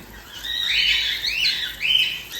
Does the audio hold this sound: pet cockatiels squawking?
yes